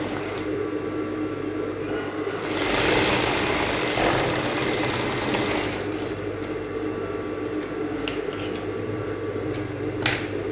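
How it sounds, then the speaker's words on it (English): Sewing machine stitching a 1/2-inch seam on a bustier, a steady mechanical whir with a low motor hum running through the whole stretch, briefly louder in the middle, with a few faint clicks toward the end and no talking. "I'm going to sew it down on 1/2 inch."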